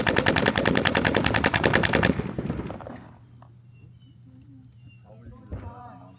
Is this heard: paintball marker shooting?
yes